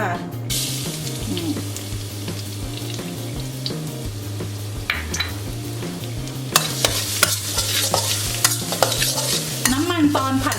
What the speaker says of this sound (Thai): จากนั้นก็ใส่กระเทียมลงไปเลยค่ะ